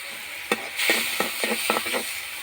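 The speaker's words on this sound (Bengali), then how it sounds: "ভেজে নিচ্ছি সুন্দর করে।" Fish and cauliflower fry with spices in a hot pan, a loud steady sizzle with stirring scrapes and taps running throughout, and nobody talks over it.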